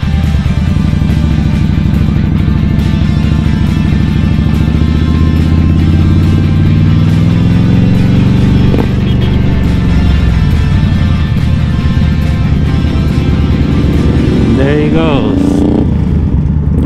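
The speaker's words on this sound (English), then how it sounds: "Looks like he got his Suzuki Boulevard" A Suzuki Boulevard M109R motorcycle engine rumbles loudly and close, its pitch rising as it passes on a road, heard over the steady drone of another riding motorcycle, with a voice talking over it.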